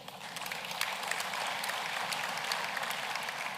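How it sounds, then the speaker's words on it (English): Audience applause at a graduation ceremony for a College of Agriculture, Engineering and Science, a steady crowd of clapping hands sustained at even loudness throughout with no voices over it. "A round of applause, please."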